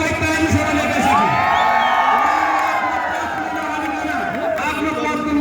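A crowd cheers, whoops and shouts continuously for the newly elected Khotang member of Nepal's House of Representatives, Aren Rai. The noise is loud, dense and steady throughout, with voices mixed in.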